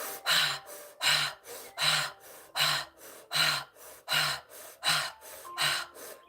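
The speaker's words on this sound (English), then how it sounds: "Keep breathing." Deep rhythmic breathing during a guided breathing exercise, with fast forceful breaths repeating about every 0.6 seconds in a steady pumping pattern. Each breath is loud and close, carrying a low voiced catch, with no speech.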